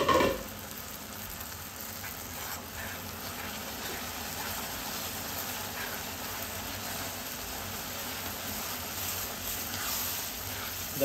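Gongura chutney stirred steadily in a pan, with a continuous soft sizzle and gentle scraping churn running through the whole stretch at an even level, no talking.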